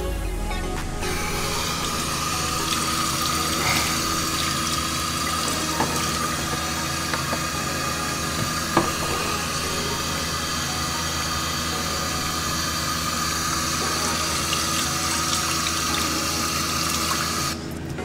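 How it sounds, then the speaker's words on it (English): A kitchen tap runs steadily while hands are washed underneath, a continuous close hiss of water splashing into the sink for the whole stretch, with no talking over it. "we need to wash our hands. So let's go wash our hands quickly"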